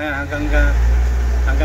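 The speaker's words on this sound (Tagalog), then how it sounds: "Ngayon po, yan, galit na po yung makina." A vehicle engine revs up from idle to a loud, sustained rumble close by, holding a steady higher pitch.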